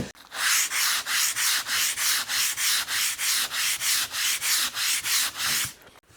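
Steady back-and-forth sanding of wood for a Telecaster-style guitar, a loud rhythmic scratchy rasp repeating about three times a second, close up and without speech.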